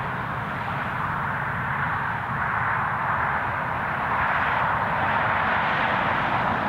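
A long-haul airliner's engines at Newcastle International Airport give a continuous broadband roar, moderately distant and steady, slowly swelling slightly over several seconds with no voices.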